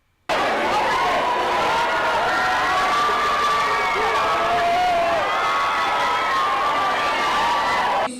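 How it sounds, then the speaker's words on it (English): A large crowd of fans screams and cheers continuously as Stan Lee walks in, with high-pitched shrieks and whoops layered over a dense roar that starts abruptly and stays loud. "Just listen to the fans screaming when he walks into the room."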